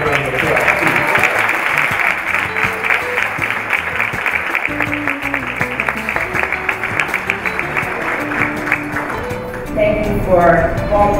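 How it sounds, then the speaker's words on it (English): Gala audience gives a long, dense round of applause, steady clapping filling the room with a few voices mixed in near the end. "So give her another round of applause."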